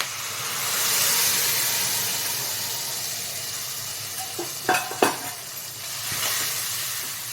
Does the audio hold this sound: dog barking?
no